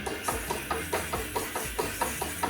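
A Graco Ultra 490 XT electric airless paint sprayer runs at raised pressure, giving a steady hiss with a soft, regular pulsing roughly every quarter second, close and fairly quiet.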